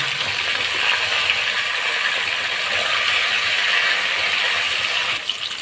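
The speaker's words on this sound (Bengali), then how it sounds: "পটলটাকে ভালো করে ভেজে নেব।" Pieces of pointed gourd (potol) sizzle in hot oil with salt, a dense, even crackle that holds steady and close for several seconds, ending in a brief stir.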